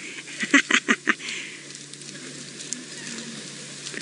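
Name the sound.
francolins calling in alarm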